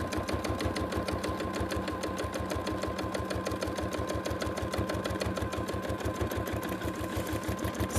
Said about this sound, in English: So I'm just going to stitch up here.